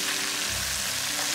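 Pickled lantern chilies hit hot red oil with broad bean paste in a wok, a bright, dense sizzle that stays loud and steady for a brief moment with no voices.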